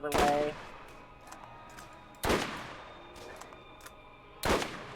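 Three sharp pistol shots ring out about two seconds apart in Borderlands while firing at skags, each a loud crack with a short decaying tail and quieter game sounds between them.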